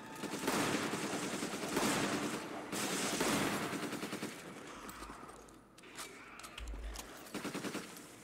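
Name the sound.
gunfire from video game Resident Evil 5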